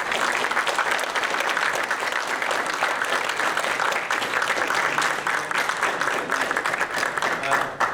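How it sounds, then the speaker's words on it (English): Sustained audience applause at a candidate forum held in a church, loud and continuous clapping from a sizable crowd for the full length. "Let's give them all a round of applause."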